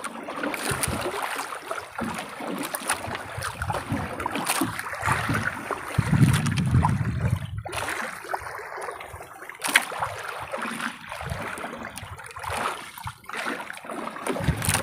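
Paddles splash and dip rhythmically into water as a small boat moves along, with wind and flowing water around it.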